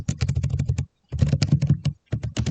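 Fingers type a Python print statement on a computer keyboard, producing close, crisp keystroke clatter in three quick bursts separated by short pauses.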